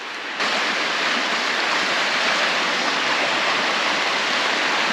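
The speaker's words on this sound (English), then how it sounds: "I'm right here on the confluence of two creeks, actually. They run together right here." Creek water rushing steadily where two creeks run together, a loud, continuous broadband roar that fades in within the first half second and then holds even, with no voices.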